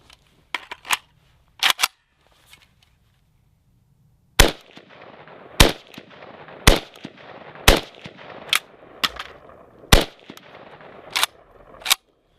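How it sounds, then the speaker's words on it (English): An AK rifle firing: a few sharp early clicks, then about eight loud, separate gunshots at irregular intervals, each a hard crack with a brief outdoor echo, and no talk. "What we do now is we shoot it another 5 rounds to see if there's a change."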